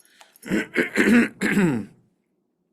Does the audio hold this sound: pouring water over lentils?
no